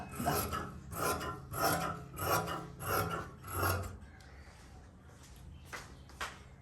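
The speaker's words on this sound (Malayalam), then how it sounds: "ഈ ഒരു ക്രോച്ചിൻ്റെ ഭാഗം ഇതുപോലെ ഒന്ന് കട്ട് ചെയ്തിങ്ങനെ നിർത്തുക" Scissors cutting cloth for the crotch piece of homemade trousers, five rhythmic rasping snips close by, then quieter scattered handling sounds.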